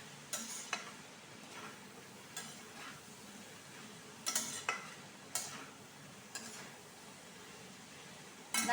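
Fried rice stirred in a pan on a gas stove, lightly sweetened with sugar, giving soft scraping strokes with faint sizzling at irregular intervals, close and fairly quiet, with no talking.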